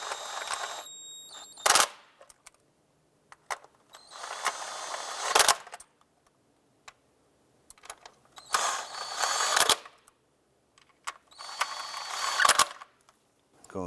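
Valve cover bolts on a 2001-2007 Ford Escape are tightened with a ratchet in four separate bursts of rapid clicking, each followed by a sharp tool clank, with silent pauses between, close and clear.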